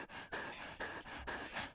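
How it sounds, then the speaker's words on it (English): Rapid rhythmic panting breaths, close and breathy, about four quick in-out cycles with no talk. "please stop panting in my ear"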